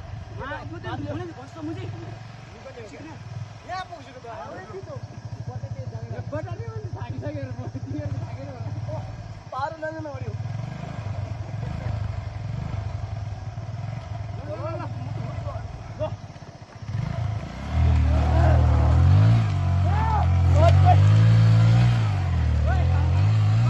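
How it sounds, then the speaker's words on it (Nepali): A motorcycle rides along a rural road, its engine droning steadily with a rise in revs and louder rumble near the end, while someone talks over it throughout. "बाइक सजिलो गइरहेको पऱ्यो यार"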